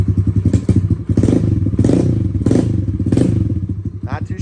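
A stock Kawasaki KLX140 dirt bike with a Big Gun exhaust and airbox mod runs with the choke off, its engine putting out a steady, loud, close thumping idle with some light clatter through the clip.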